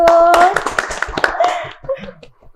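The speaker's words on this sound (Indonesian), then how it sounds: "Tepuk tangan dong." An audience claps hands in a school hall for a student drill team, a lively burst of close, uneven claps with voices and a little laughter mixed in, thinning out toward the end.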